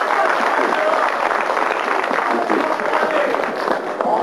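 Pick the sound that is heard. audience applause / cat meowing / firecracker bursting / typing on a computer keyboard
audience applause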